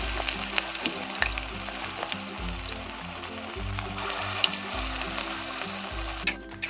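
Pumpkin kofta balls fry in oil over lowered heat, a continuous bubbling sizzle heard close up with a faint low hum beneath and no talking.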